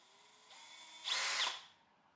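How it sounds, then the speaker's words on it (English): A power drill set to its first clutch setting runs briefly, a soft whir rising into a louder, steady burst for about half a second before winding down and cutting off, with no talking. "I use a drill. Bad boy set to 1"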